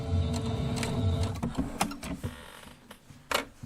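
A sewing machine back stitching on a quilted pillow wall hanging, a close buzzing run of needle strokes that stops and gives way to a few clicks and taps.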